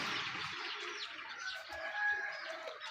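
Chickens and birds chirping and clucking faintly in the background, a steady mix of calls with no talking.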